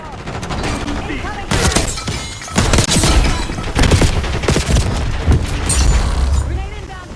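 Video game shotgun gunfire bursts in loud, dense volleys of booming blasts alongside other battlefield explosions, with radio-style voices talking over the action.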